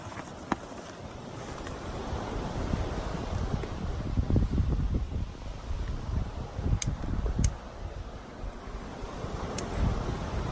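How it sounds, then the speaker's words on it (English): Strong wind blowing outdoors, buffeting the microphone in a continuous loud rumbling roar that swells and eases over several seconds, with a few faint clicks on top and no voices. "The wind is blowing here, so things keep turning off and the cards keep flying away."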